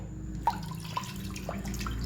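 Water is poured into a pressure cooker holding mutton keema and wheat rava, making a soft, close, steady trickle with a few light splashes and drips.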